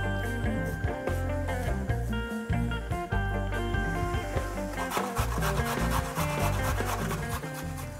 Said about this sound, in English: I love grating vegetables for salads because you create kind of very thinly grated vegetables